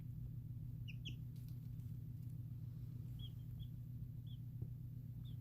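Young chicks give a few faint, high peeps, scattered and brief, over a loud, steady low hum from the brooder surroundings.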